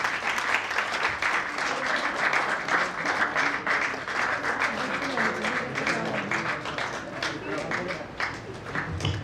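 A seated crowd at a Vedic conference claps together in a steady, fairly close wash of applause that holds throughout, slightly thinning toward the end.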